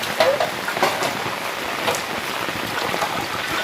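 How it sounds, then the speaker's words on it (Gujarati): Steady rainfall pours outdoors as a dense, even hiss with scattered droplet patter, continuous and fairly loud throughout. "વરસાદ ચાલુ"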